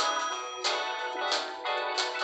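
A phone in a prison-escape video game rings in repeated bursts of bright electronic tones, three clear pulses over two seconds, loud and alone with no talk.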